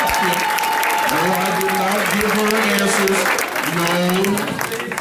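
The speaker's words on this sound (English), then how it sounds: "Let's give her a nice round of applause." An audience at a parent breakfast gives a sustained round of dense, steady clapping that fills the whole stretch, with faint tonal sounds underneath.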